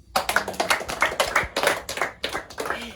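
A crowd claps hands at a birthday surprise party on a set, a dense run of nearby sharp claps in uneven bursts with brief pauses, no talking.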